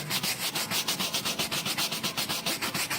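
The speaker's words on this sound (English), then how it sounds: "Find yourself a soft bristle brush and just work it in with the grain." A soft bristle brush scrubs foam into a Kawasaki KLX motorcycle seat, giving steady rhythmic back-and-forth rubbing strokes, close and fairly quiet, about six strokes per second with no talk.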